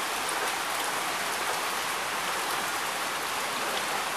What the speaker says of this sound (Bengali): এখন বৃষ্টি